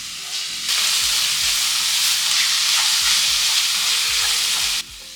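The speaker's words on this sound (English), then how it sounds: "Next you can go ahead and add the saltfish you prepped earlier. Saute them so they absorb those flavors." Saltfish sautéing in a pan with tomatoes and seasonings gives off a loud, steady sizzle that starts abruptly, holds evenly for several seconds, then cuts off near the end.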